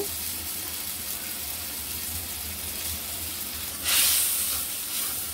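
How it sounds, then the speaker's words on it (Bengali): Green chilies and tomatoes go into a hot frying pan for a Bengali vegetable fry with pabda fish, giving a steady low sizzle that swells into a brighter hiss near the end. "এখন দিব কয়েকটা কাঁচামরিচ, টমেটো"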